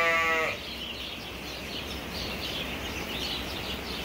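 Sheep and lambs on a farm bleat in one loud call at the start, then a steady murmur of the flock and outdoor background noise continues.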